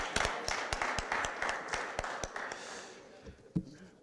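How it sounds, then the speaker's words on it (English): Sparse applause from a small audience at a city board of aldermen meeting, a few distinct hand claps repeating steadily and then fading out, fairly quiet in a large room. "Let's give him a round of applause."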